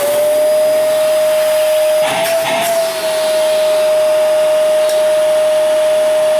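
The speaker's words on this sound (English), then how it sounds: "Now we're going to test the airflow again to see if we've lost any performance. Starting with the Shark." A Shark Rotator vacuum cleaner runs loud and steady during an airflow test, with a constant high motor whine and a short dip in the airflow partway through.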